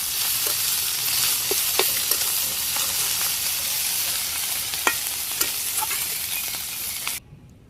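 Fish frying in hot oil in a wok, a steady dense sizzle with occasional sharper pops and crackles, fairly close, running continuously until it cuts off abruptly near the end.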